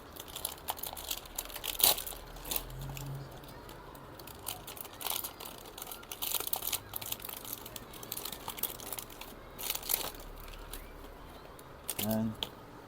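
A packet of nori seaweed is opened close by, giving off scattered crinkles and rustles of plastic wrapping. Quiet talk runs beneath the crinkling.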